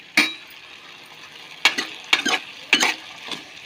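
Fenugreek leaves fry in a pan for a pickle under a low, steady sizzle, broken by four or five short, scraping bursts of stirring.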